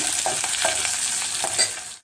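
Ground masala paste for a sprouted horse gram and drumstick curry sizzles and fries in a pan, with a few stirring scrapes over a steady hiss, close and alone until it cuts off.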